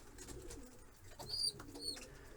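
Iranian pigeons in a loft giving soft, low cooing calls, faint and close, two or three brief coos over quiet background.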